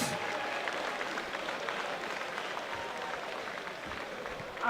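A crowd at a Commonwealth light flyweight boxing match applauds steadily for both fighters after the bout, a sustained, dense wash of clapping filling the arena.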